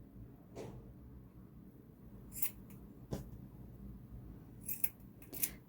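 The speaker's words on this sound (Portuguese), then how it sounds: "Vamos cortar aqui, ó." Scissors cut through the fabric of a T-shirt sleeve in a few separate snips, each a sharp close crunch, spaced over a quiet background with no speech.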